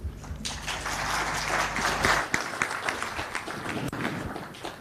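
Applause from an audience at an MTN IPO conference in Uganda, steady clapping that swells and then thins into scattered claps over a low hum.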